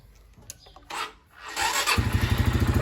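A Honda Sonic 125 motorcycle is started by hand with a few clicks and a short cranking whir, then the engine catches and settles into a steady, close, rhythmic idle.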